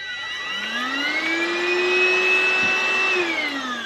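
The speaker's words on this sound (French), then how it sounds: "c'est un aspirateur comme ça, donc ça c'est le bloc avec le filtre en mode cyclonique." A TintonLife cordless cyclonic vacuum cleaner runs steadily up close, its motor whine climbing in pitch, holding for a few seconds, then sliding back down. The airflow hiss underneath stays loud throughout, with no talking.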